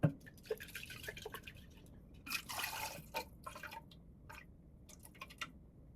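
Water drips and trickles in irregular small splashes, close by, with brief pouring bursts in between and no talking, as water is poured out of a container of sprouting seeds.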